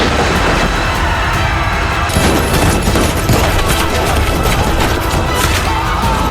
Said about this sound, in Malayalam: വെടിയുതിർത്തു.